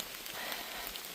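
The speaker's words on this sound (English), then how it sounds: "Nothing like a bit of rain to help you get motivated to walk quickly." Rain falling on a mountain hiking trail in the Grayson Highlands of Virginia, a steady dense hiss of drops with no voices, heard briefly.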